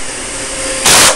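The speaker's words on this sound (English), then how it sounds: "And what you do on the back of the rug is you take your vacuum" A steady vacuum cleaner drone over the back of a rug, rising to a louder, harsher roar near the end as the nozzle presses down.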